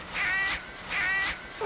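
Crows caw in two loud, harsh bursts while birds fly off from a farm field, each call close and clear with a short gap between them.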